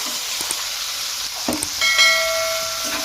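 Chicken meat tipped into a pan of frying onions and bay leaves sets off a steady sizzle and hiss, with a few clinks and a louder burst of spattering as the meat lands.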